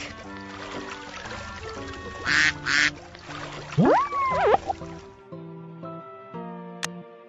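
A cartoon duck quacks a few times over playful background music in a children's animal alphabet lesson, the quacks loud and close.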